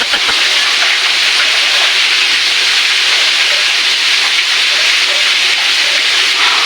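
Hot cooking oil spatters hard in a frying pan, a loud, dense sizzle with constant crackling pops that stays close and steady throughout, with no speech.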